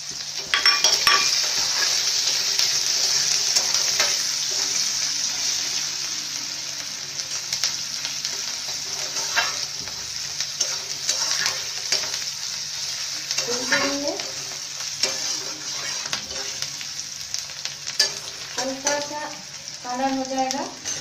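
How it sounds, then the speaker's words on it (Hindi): Chopped onion and garlic sizzle steadily in a hot pan for egg curry, a constant frying hiss with occasional clinks and scrapes of a utensil stirring, and a few faint voices in the background. "उसके बाद इसे प्याज है कटा हुआ ये दे रहे हैं, और लहसुन जो है ज्यादा नहीं है"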